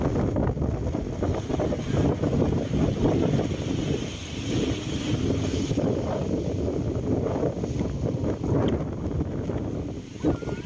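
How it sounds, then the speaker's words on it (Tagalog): Strong wind at a beach roars steadily into the microphone, a dense, continuous buffeting rumble that stays loud throughout with no pauses. "Grabe, lakas ng hangin."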